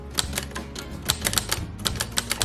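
A repaired vintage typewriter typing, its keys striking in an irregular run of sharp, close clacks with a few metallic ring tones, about a dozen strikes with no talking.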